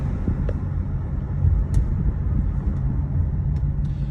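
A 2008 Mazda CX-7 is driven on a road, heard from inside as a steady low rumble of engine and tires. A few faint clicks and taps come through over the drone.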